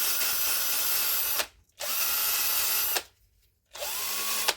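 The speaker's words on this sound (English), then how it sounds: "Now I'm just going to run my wire wheel on a drill just around the original bolt." A wire brush spins on a power drill around an original bolt on a dumper loader, in three loud, grinding bursts separated by short pauses, the motor whirring up and down.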